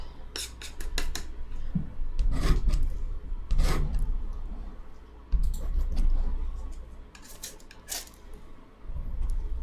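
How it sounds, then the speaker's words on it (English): Black paint is scraped onto a canvas during an ASMR painting session, producing close, raspy rubbing strokes in irregular bursts with brief pauses, with some quiet background rustle. "I don't want to overdo it with the black, so I'm just going to scrape it in a little right there"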